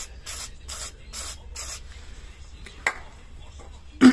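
Penetrating oil sprayed onto the seized brake pistons of a Kawasaki ZXR motorcycle, four short close hissing bursts in a row, followed by quieter handling noises and a sharp knock.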